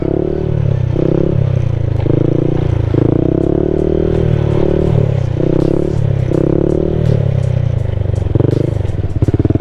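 A Honda Grom motorcycle loud and close, its small engine revving in repeated surges and dips as it rises into a wheelie and is braked back down, with rattles and scrapes mixed in and no voices.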